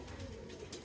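A pigeon coos softly in a short, faint call, a low murmuring tone with no other sounds around it.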